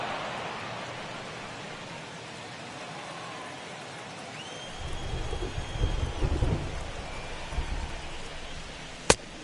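Steady rain hisses throughout a rain delay at a baseball game, with deep thunder rumbling in near the midpoint and a sharp crack close to the end. No one is talking.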